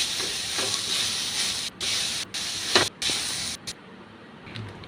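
Cabbage sautéing in hot oil for a Tamil cabbage poriyal, a steady bright hiss of sizzling that cuts out in several short gaps, with a faint scrape or two, close and fairly loud with no talk.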